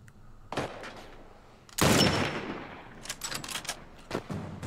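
Gunfire in The Last of Us Part 1 during a suburban fight: a few sharp shots, one loud close blast followed by a decaying tail and a run of quicker, fainter reports.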